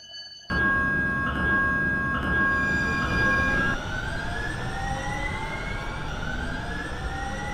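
Minneapolis–St. Paul Blue Line light rail train approaching, a loud bright electric whine and rolling roar that starts abruptly, with steady tones shifting into a rising pitch sweep as it nears, alone without talk.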